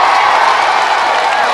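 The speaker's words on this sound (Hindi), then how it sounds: "जोरदार तालियों से अकबर अवैसी साहब का शुक्रिया अदा करिए" A political rally crowd for Akbaruddin Owaisi claps and cheers in a dense, loud, continuous wash of applause.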